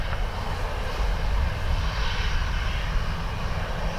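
An airplane taxiing at Dublin Airport gives off a steady, loud engine roar, broad and constant throughout with no breaks and no voices.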